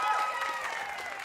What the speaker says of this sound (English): can we have one more final round of applause for everybody in the room who